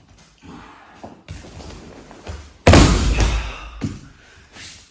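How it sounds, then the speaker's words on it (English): A judo throw sends a person slamming onto a training mat: scuffling and shuffling on the mat build up before one sudden, heavy, close impact lands midway, followed by a fading rustle. "He's going to bomb me with his favourite throw."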